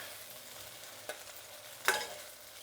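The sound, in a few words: okra (bendakaya) frying and being stirred in a pan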